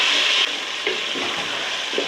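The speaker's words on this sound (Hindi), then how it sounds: "अभी टमाटर डालती हूँ।" Tomatoes hit hot oil with garlic and ginger for chana daal. A loud sizzling burst opens, then settles into a steady frying crackle with a few soft stirring knocks.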